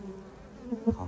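Worker honeybees buzz at the entrance of a hive in spring as they carry pollen and nectar in and out, a close, steady droning hum with a couple of louder passes near the end.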